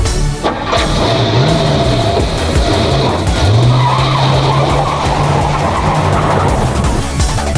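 A car drifts in the video game URGE: IRON, its tires squealing loudly and almost without pause as the engine revs rise and fall under the long, sustained skid.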